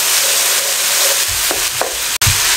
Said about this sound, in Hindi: ये 1 और ये 2 टेबल स्पून लहसुन अदरक का पेस्ट शामिल कर दें। थोड़ा सा इसको तकरीबन आधा मिनट ऐसे सोते कर लें।